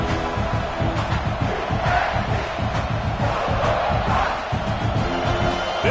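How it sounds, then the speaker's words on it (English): A packed stadium crowd at a college football game, South Carolina against Oklahoma, roars continuously with a deep, rumbling cheer and shouts that stay loud and steady throughout. "This crowd bringing the energy and noise early."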